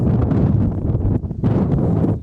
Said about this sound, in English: Wind is definitely gusting right now.